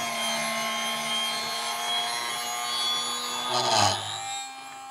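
An Impuls 2.2 wood lathe turns a wooden workpiece at 600 rpm, giving off a steady close-up whir with a layered tonal hum, briefly rising into a rougher scraping burst near the end.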